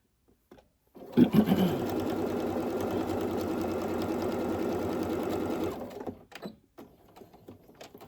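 A sewing machine stitches fabric for a machine cover, starting with a few quick bursts, then running steadily and loudly for about five seconds before slowing into short stop-and-start back stitches at the end.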